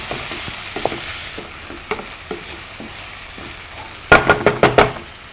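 Onions, tomatoes and bell peppers fry in a pan with a soft steady sizzle, joined by occasional stirring taps and then a quick run of louder spoon knocks near the end.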